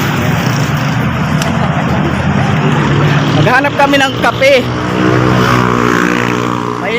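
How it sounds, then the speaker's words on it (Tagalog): Traffic of many passing vehicles on a busy provincial road, a loud continuous engine roar and rumble, with a person talking over it partway through. "Maingay kasi madaming dumadaan sa sasakyan."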